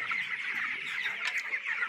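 Young broiler chickens, about 1500 birds around 22 days old, clucking and peeping together in a poultry farm shed, a steady dense chorus at moderate level with no talk.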